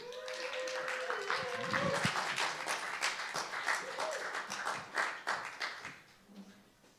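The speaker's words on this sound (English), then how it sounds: "welcome to the stage with a massive round of applause for Tom Merry" Audience at a live comedy night at The Bedford applauds and cheers as a comedian is welcomed onto the stage; a dense, steady wash of clapping fades toward the end, with a few voices mixed in.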